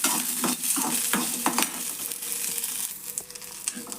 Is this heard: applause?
no